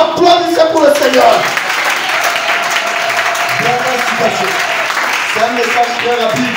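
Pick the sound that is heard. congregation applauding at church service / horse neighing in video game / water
congregation applauding at church service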